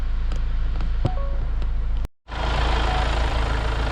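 A diesel Kia Sportage The Bold idling with a steady low rumble, close by; a brief dropout interrupts it midway before the rumble resumes louder.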